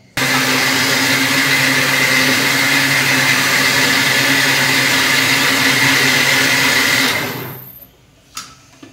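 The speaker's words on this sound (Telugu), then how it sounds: "దీన్నైతే ఇప్పుడు మిక్సీ పెట్టేద్దాం, రేపటికి కదా దోశలకి." A mixer grinder grinds washed urad dal into dosa batter with a loud, steady motor whine and churning for about seven seconds, then cuts off and winds down, leaving near silence with one faint knock.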